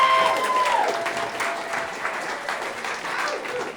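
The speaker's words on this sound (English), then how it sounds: "Give a warm round of applause for Cody Hustack." A comedy club audience gives a steady round of applause for a comedian. The clapping is dense and continuous throughout, with a brief whoop near the start.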